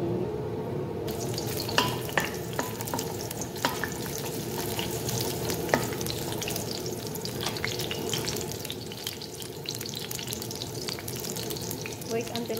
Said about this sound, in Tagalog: While nainit na yung mantika ta oil ta, ilalagay po natin yung onion.